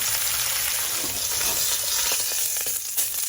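Lamb shanks sear in avocado oil in a hot pan, giving a steady, loud broadband sizzle and spatter that holds throughout with no letup.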